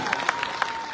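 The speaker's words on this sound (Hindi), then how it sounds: "जोर से नारायण जी का हाथ जोड़ के उनकी ताली बजाना ताकि उनको याद तो आ जाए" Audience applause at a BJP political rally in Sadulshahar comes through as faint, scattered handclaps, a few distinct claps within about a second over a low crowd murmur.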